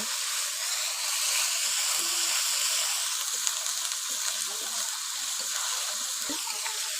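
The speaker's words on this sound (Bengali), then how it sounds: "আদা বাটা আদা রসুন একটু ভালো করে ভাজে নিন" Ginger-garlic paste fries in hot oil in a pan, giving a steady bright sizzle with small pops and occasional stirring scrapes, close and continuous.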